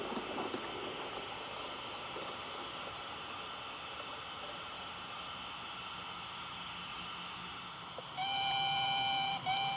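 A model railway pickup goods train departs on a light railway layout, a steady low mechanical rumble of running that brightens and grows louder with a high whine near the end, no voices.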